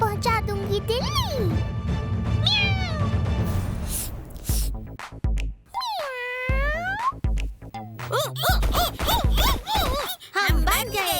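A cartoon cat meows in a series of high, sliding, sing-song cries over bright background music, with other animated character sounds joining near the end.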